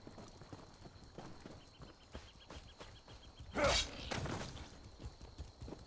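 A horse's hooves clip-clop at a steady walking pace in the fantasy role-playing game The Elder Scrolls Online, with faint rhythmic steps and a louder whooshing swell near the end.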